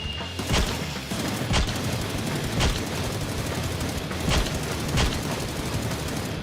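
Rapid bursts of rifle fire in a competitive PUBG match, with sharp, loud reports recurring roughly every second over a dense background of battle noise.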